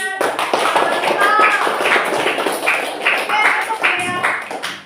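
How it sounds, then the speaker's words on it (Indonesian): Children clapping for a classmate group in a school activity, a quick run of light taps and claps close by, mixed with children's voices talking and calling out over it. "silakan tepuk tangan untuk kelompoknya"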